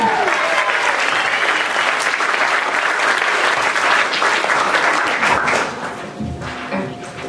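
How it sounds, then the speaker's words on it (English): An audience welcoming Naomi to the stage with loud, sustained applause, a dense roar of many hands clapping that tapers slightly toward the end. "Clap for Naomi."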